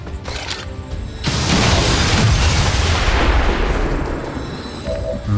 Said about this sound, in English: we got an explosion that really we didn't need, that really didn't help us